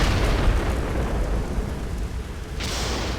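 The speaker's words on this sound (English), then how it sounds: "Apparently we can blow up these towers by shooting at their exposed innards." Towers in the video game Descent 3 blow up after being shot, giving a loud, rumbling explosion that roars and decays over a few seconds, followed by a fresh burst of crackling debris near the end.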